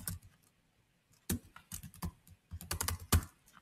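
Keys clatter on a computer keyboard as a password is entered, in short irregular bursts of close, crisp clicks separated by brief pauses.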